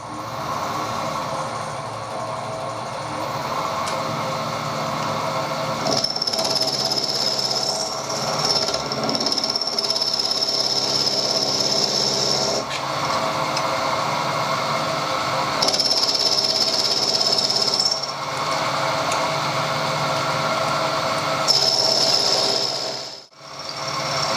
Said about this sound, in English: I'll put it in the milling machine, take some of that out